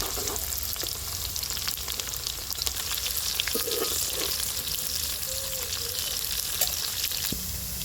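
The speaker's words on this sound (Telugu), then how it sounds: "ఈ తాలింపులోకి ఉల్లిపాయ వేసాను" Onions sizzle steadily in hot oil, a constant close crackle with occasional stirring knocks and a faint tonal squeak partway through.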